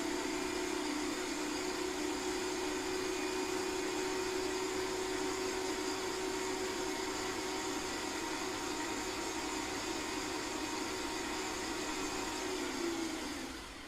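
An electric mixer on a medium setting beats scone mixture in a steady, continuous whirring drone with a faint constant hum that holds level for about fourteen seconds, no voices.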